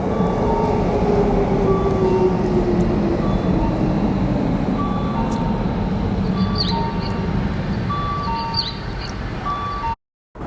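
A metro train rumbles steadily into a large station in Japan, a loud continuous roar with a falling whine and faint squeals and clicks, before cutting off abruptly.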